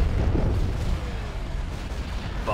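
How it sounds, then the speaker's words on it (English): Iron cannon firing in a sci-fi strategy game space battle, a loud booming report with rumbling low end, followed by a sharp burst near the end, over continuous battle noise. "Iron cannon firing."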